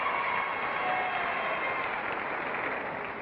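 Studio audience at a 1964 television game show clapping steadily, an even, sustained wash of applause at moderate level that fades slightly toward the end, with no talking over it.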